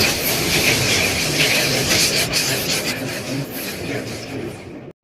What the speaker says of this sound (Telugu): నా బండి అయితే వచ్చేసింది.